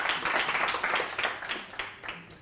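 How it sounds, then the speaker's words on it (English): A small audience at a business networking talk claps for itself, a lively burst of individual claps that is distinct near the start and then thins and fades toward the end. "can you guys give yourselves a round of applause"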